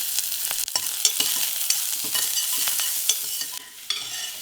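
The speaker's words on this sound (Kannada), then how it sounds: "ಇದಕ್ಕೆ ಒಂದು ಅರ್ಧ ಕಟ್ ಮಾಡಿರೋ ಈರುಳ್ಳಿನ ಹಾಕಿ ಹುರ್ಕೋಬೇಕು." Halved onions frying in oil in a pressure cooker over a low flame, a steady bright sizzle broken by several scraping stirs of a spoon, close and clear with no talk.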